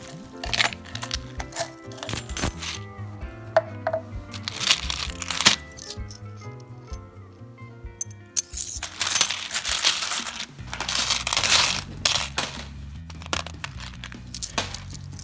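Loose coins from a garage-sale treasure chest clink and jingle as they are dropped and sorted, with repeated bright metallic clatters and rattling bursts, close and fairly loud, arriving in uneven clusters with brief pauses.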